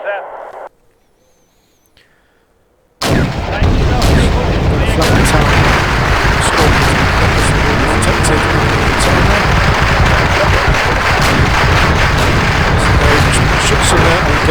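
Artillery and gunfire from the video game Wargame: European Escalation, with SAS troops engaging dug-in enemies. A brief quiet stretch gives way to a loud, dense, continuous barrage of booms and shots that stays close and heavy to the end.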